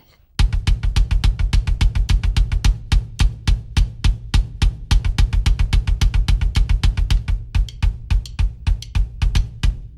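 Rapid, evenly spaced kick drum hits pound out a steady sixteenth-note double-bass pattern with cymbal wash on top, loud and close, with no voices.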